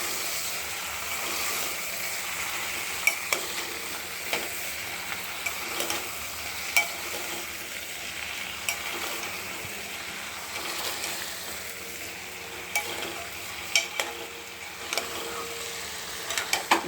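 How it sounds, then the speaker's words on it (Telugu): Cucumber and tomato being stirred in a hot frying pan, a continuous close sizzle with scattered scraping clicks of the utensil against the pan, with no voices over it. "దోసకాయ టమాటా వేసేసుకొని కలుపుకోవాలి."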